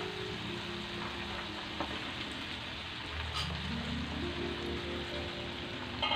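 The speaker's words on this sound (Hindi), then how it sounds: "अब इस कॉर्न को हम मीडियम आंच पर क्रिस्पी होने तक तल लेंगे।" Corn kernels deep frying in oil over medium heat, a steady crackling hiss throughout with a low rumbling hum rising partway through, no voices.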